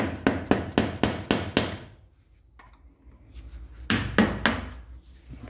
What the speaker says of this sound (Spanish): ver si esto logra girar, o por lo menos desengancharse